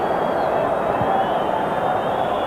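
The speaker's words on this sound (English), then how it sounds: "The crowd wanting more urgency." A football stadium crowd at a 1992-93 Napoli versus Juventus match, a constant broad roar of massed voices, steady and fairly loud, with a commentator talking over it.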